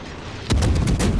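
A single heavy naval gun salvo in the World of Warships video game, a sudden loud boom after a short quiet lead-in, followed by rolling rumbling echoes.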